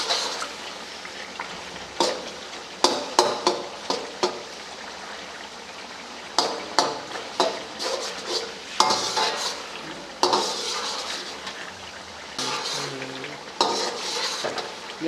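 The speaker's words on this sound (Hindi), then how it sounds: "ऐसे ऐसे करते रहना है ताकि टमाटर जो है वो मिक्स हो जाएं।" Tomatoes are stirred in a sizzling chicken charsi karahi, with clanking, scraping spoon strokes against the pan in bursts over a continuous frying hiss, close and fairly loud.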